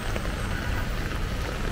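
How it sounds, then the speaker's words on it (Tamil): Heavy rain pouring down in Dubai, a steady dense hiss of drops hitting surfaces with no break, close and fairly loud throughout, and no voices over it. "பயங்கர மழை பெஞ்சிருக்கு துபாயில்."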